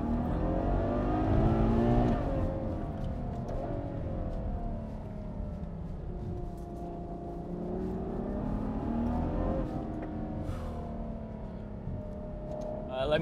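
A V12 Ferrari pulls hard after a downshift, its engine note climbing and sustained in a steady, loud interior drone with rising and falling pitch sweeps over about thirteen seconds.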